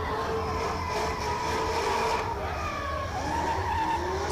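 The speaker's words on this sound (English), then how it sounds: "I can hear now tyres being warmed up." Drift cars warm their tyres before a battle at the Oman International Drift Championship, a continuous screeching tyre squeal blended with engine roar, steady and fairly distant, with no talk.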